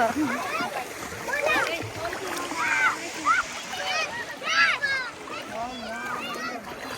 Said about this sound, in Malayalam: അങ്ങനെ ഞങ്ങൾ വെള്ളത്തിലൂടെ നടന്ന് നടന്ന് നടന്ന് നീങ്ങുന്നു.